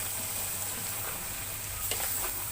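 Chicken korma fries in a pan with a soft, steady sizzle and a brief scrape of stirring near the end, close but fairly quiet and with no voices.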